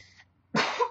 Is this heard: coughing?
yes